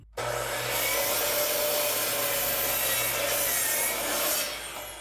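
A saw cuts a 30-degree bevel through a wooden bench leg in one close, steady stroke, with a loud, even rasp and no talking.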